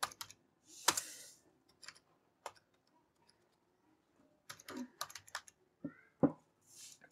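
Code is typed on a computer keyboard in short bursts of crisp, close clicks separated by quiet pauses, with a few heavier key thumps and no talking.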